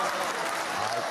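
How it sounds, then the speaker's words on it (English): Applause from a crowd, a dense, steady wash of many hands clapping at a moderate distance, briefly filling the moment without a break. "Adam Carolla is clapping."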